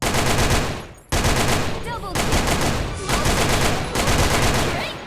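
An AK rifle fires in the online shooter Sudden Attack, with loud, rapid automatic bursts, a brief pause after the first second, then sustained close-range fire with faint shell and effect sounds.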